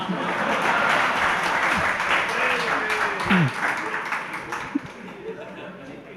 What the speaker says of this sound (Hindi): आप लोग बहुत जोर से तालियां बजा दी